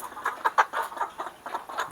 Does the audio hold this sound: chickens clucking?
yes